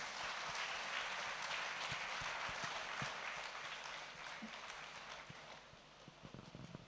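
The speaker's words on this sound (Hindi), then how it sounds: "जोरदार तालियां बजाइए।" Applause from a spiritual gathering audience, broad and continuous at first then gradually thinning and fading, with sharper individual claps standing out toward the end, fairly quiet overall.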